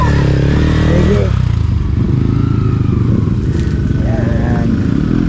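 A motorcycle engine running nearby, a loud steady rumbling idle with rattling texture, while people talk over it.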